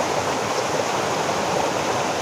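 A shallow creek flowing, water rushing in a steady, dense, fairly loud wash of noise close by, with no voices over it.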